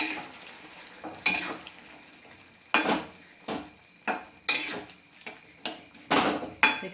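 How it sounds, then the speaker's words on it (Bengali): A spoon stirs fried eggs into a curry of boiled potatoes in a pan. Repeated scraping, clattering strokes come at an uneven rhythm over a soft sizzle, close up, with no one talking. "দিয়ে এটা ভালোভাবে মিক্স করে নিচ্ছি ডিম আর আলু"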